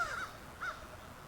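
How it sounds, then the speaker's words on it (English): A loud adult male crow calls twice in quick succession, two short harsh caws standing out against quiet outdoor background noise near a brook. "that real loud one there is an adult male crow, I think."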